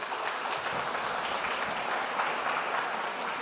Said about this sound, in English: So ladies and gentlemen, please, with applause and warm welcomings